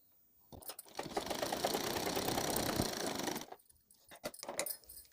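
A sewing machine stitches a cloth potli bag in a close, steady whirring run of a few seconds, framed by scattered clicks and handling knocks before and after.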